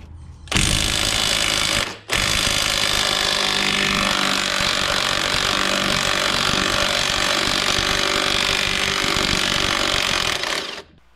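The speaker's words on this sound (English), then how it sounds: "And yes, the impact wrench did turn the nut off." A worn impact wrench with a 21mm socket spins a strut nut loose on a 2007 Chevy Equinox front strut, a loud continuous rattling hammer that runs nearly ten seconds with one brief pause early on.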